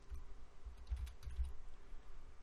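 Someone typing on a computer keyboard: a quick, uneven run of soft key clicks, close and fairly quiet, with no talking.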